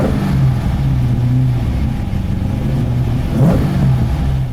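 TVR Griffith with a 271-horsepower Ford V8 in a 900 kg body, engine revving loud and close; a deep rumbling drone that holds steady, then swells in a sharp rising rev before settling back.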